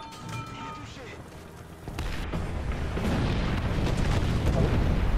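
Anti-aircraft gunfire in War Thunder, with a rumbling barrage of booms and bursts building up after a quieter opening, under someone speaking French.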